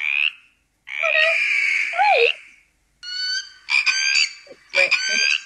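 Croaking monster voice sound effect in a reading of a children's storybook, loud rasping croaks and growly calls in several bursts separated by short silences.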